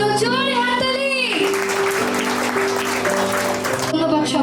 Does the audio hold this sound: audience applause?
yes